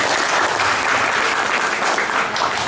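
Steady, dense applause from an indoor audience at a political party meeting, continuous and fairly loud throughout with no talk over it.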